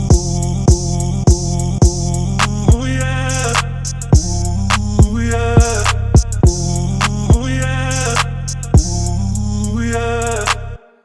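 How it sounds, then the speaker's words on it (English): A Pharrell-style stutter effect built in Maschine chops a looping beat into rapid repeated fragments, with punchy drum hits, sustained bass and gated, stuttering bursts in a steady rhythm, loud and up close. "which is the Pharrell Stutter effect. And it's going to sound something like this here."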